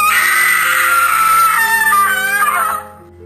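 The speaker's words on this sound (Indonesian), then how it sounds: "tiba-tiba ada suara jeritan dari salah satu cewek yang berada di rumah sebelah" A woman screams in a neighbouring house, one long loud shrill cry that wavers and then cuts off abruptly, heard alone with a faint tail of room sound afterward.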